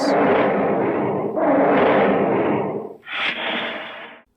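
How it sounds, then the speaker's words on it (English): Deep, rasping monster roars built from zoo animal recordings, in three long bursts, rough and booming, with a brief pause before the final shorter roar. "Gomess's roars are said to be animal sounds recorded at a zoo."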